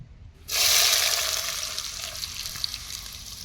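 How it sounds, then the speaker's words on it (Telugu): Sliced onions hit hot oil for a mung dal fritter curry, erupting into a sudden loud sizzle after half a second of near quiet, then settling into a steady, slowly fading frying hiss. "నూనె వేడెక్కింది. ఉల్లిపాయలు అయితే వేసుకుందాం."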